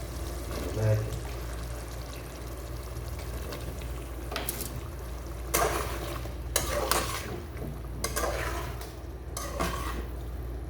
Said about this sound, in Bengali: এখন আলু কুমড়া আর ডালেগুলো দিয়ে দেবো